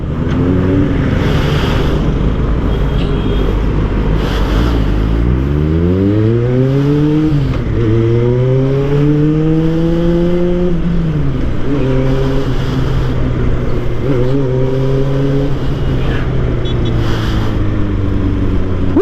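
A Honda CB400 motorcycle engine runs close and loud for a long stretch, idling with a steady rumble between several throttle blips that rise and fall in pitch.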